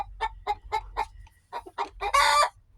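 A hen clucks in a rapid series of short calls, ending with a louder drawn-out squawk, an excited egg song heard up close.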